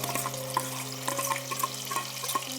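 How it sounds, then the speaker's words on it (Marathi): Ground masala paste frying in hot oil for egg curry, a steady close sizzle with small pops and spatula ticks running throughout, with no talk. "आता हा मसाला छान तेलामध्ये परतवून घ्यायचा"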